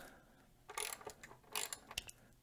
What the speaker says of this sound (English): I am going to loosen the pinch bolts on this side